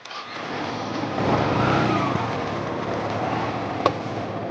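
A motorbike engine runs continuously at a garage during a test ride, swelling slightly as it revs and then holding a steady drone, with one short knock near the end.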